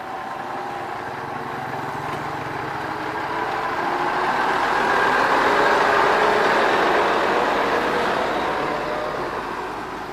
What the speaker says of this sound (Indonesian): Masinis harus pelan-pelan ya untuk menjalankan lokomotif.